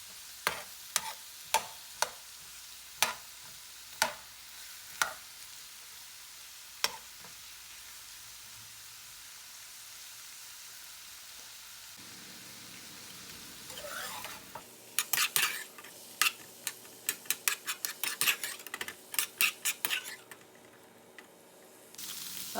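Shrimp fry in melted butter in a pan and are stirred with a utensil. Several sharp metallic clicks come first, then a steady sizzle with a rapid burst of scraping and clattering stirring near the end.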